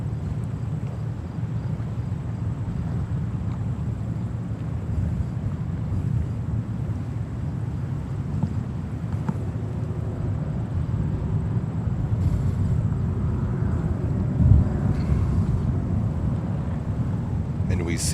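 An American Airlines Boeing 737-800 jet airliner at New York's JFK Airport, bound for Dallas: a steady, continuous engine roar mixed with wind buffeting, holding level throughout.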